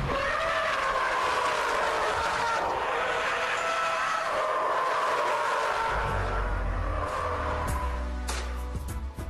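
A 2010 Subaru Impreza WRX STI launches hard, its engine roaring steadily and loudly as it accelerates, with tire noise and wind rushing throughout, heard from close by.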